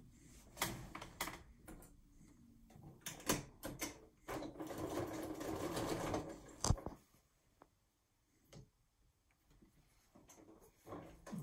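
Home sewing machine stitching quilt binding down the side of a quilt, a short burst of close mechanical whirring amid scattered handling clicks and taps, quiet pauses before and after.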